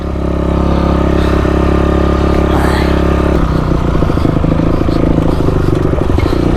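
A motorcycle engine roars loudly and continuously up close during a night endurance race, with rattling, clattering mechanical noise and a shift in engine pitch partway through.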